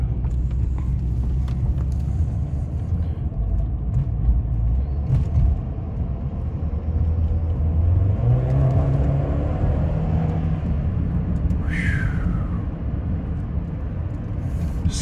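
A car engine running rough on used motor oil mixed into the fuel rumbles continuously at low pitch, its revs wavering and surging unevenly, with a brief higher whine near the end.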